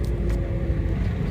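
A manual car's engine revs steadily during a driving lesson, a continuous low rumble and drone filling the cabin at close range with no talk over it.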